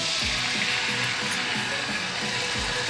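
Chicken frying in a little oil in a kadai gives a steady, close sizzling hiss, with faint rhythmic low knocks repeating underneath throughout.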